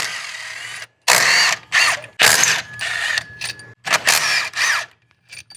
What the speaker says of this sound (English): let's remove these 10 millimeter headed bolts